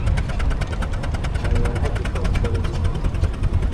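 A Fowler compound steam engine runs at a spring fair, chugging in a steady, fast rhythm of repeated beats, loud and close, with a continuous mechanical rumble underneath.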